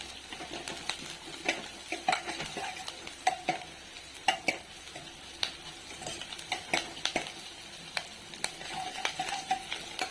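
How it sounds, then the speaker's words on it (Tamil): Onions sauté in a pan for a potato and peas masala, a soft continuous sizzle broken by frequent light spatula taps and scrapes, close and moderately quiet, no talk. "நல்லா வதங்கிடுச்சு இன்னும் கொஞ்சம் வதங்கட்டும்"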